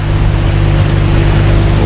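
Motorboats on open water, with many boats crowded together in rough, powerful conditions, give off a loud, steady engine drone close by, backed by constant wash and rumble with no break.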